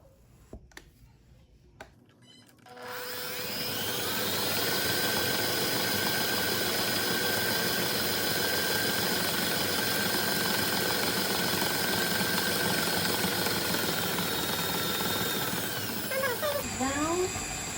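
An electric mixer beats lemon pound cake batter, starting after a couple of quiet seconds with clicks, then running as a steady loud whirring motor drone for about fourteen seconds before shutting off with brief clatter.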